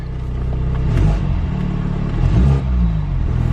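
A 2020 Toyota Supra with a four-cylinder engine revs up at an auction lot, giving a deep rumbling rise and fall of throttle blips over a steady idle, heard up close with no talking.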